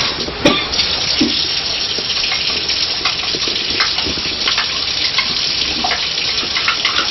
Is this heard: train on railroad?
no